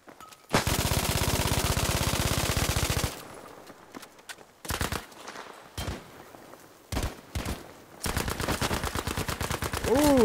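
Gunfire in the shooter game Battlefield V: a long sustained burst of rapid automatic fire, then scattered single shots and short bursts, ending in another dense volley, loud and close.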